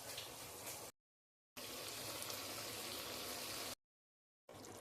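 Chicken simmering in its own water inside a pressure cooker for pulav, a steady bubbling, hissing wash that runs in a few loud stretches broken by abrupt silent gaps.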